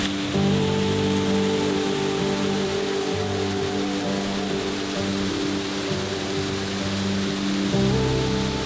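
Zig Zag Falls on Fall Creek near Jasper, Georgia roars in a loud, steady, unbroken rush of falling water heard up close, with no talking.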